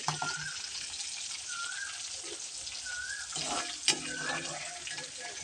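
Bitter gourd frying in hot oil, a steady close sizzle and crackle throughout with a few brief scraping clinks, no talk over it.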